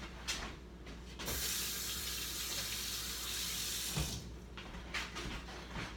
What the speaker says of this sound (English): So I'm just going to go over to the sink and wet my hands.